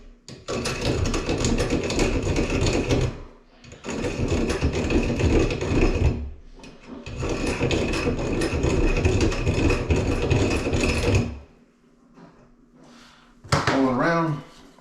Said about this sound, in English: Now take your inside deburr tool.